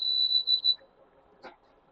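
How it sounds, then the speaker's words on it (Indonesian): A smart door lock on an IoT security system gives a short, high, steady buzzer beep lasting under a second, followed by a brief click. "dan ada sedikit bunyi dari buzzer untuk notifikasinya"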